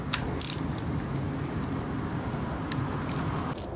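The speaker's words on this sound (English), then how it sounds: "I'm going to go ahead and torque these down." A ratchet clicks steadily as bolts are torqued down on a Honda Civic hatchback engine during a valve repair, a close mechanical ratcheting heard on its own.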